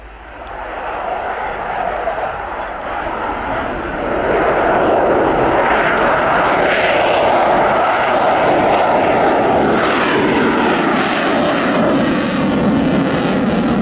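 A Ukrainian Air Force Sukhoi Su-27P1M Flanker flies at very slow speed with its air brake deployed, its loud jet engine roar building after a few seconds and then holding steady and powerful.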